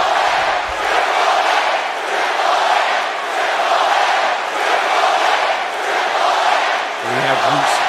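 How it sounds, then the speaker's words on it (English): A sold-out arena crowd in Atlanta roars in a WWE 2K wrestling match, a loud sustained swelling cheer that rises and falls in waves, with a brief low voice near the end. "This sold-out crowd here in Atlanta is firmly behind, as you can hear, the King of Kings."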